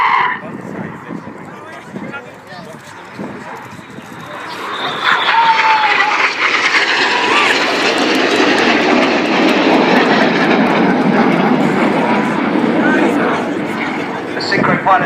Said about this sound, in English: These 4 jets descend now to just 100 feet, closing at over 800 miles an hour